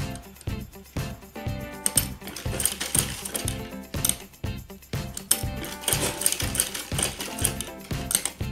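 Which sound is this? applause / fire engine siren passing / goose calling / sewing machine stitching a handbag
sewing machine stitching a handbag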